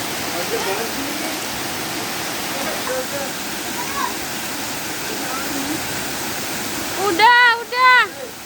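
Heavy rain pours steadily outside in front of a house as children play in it, a dense hiss throughout, with brief bursts of voices and tonal cries near the end.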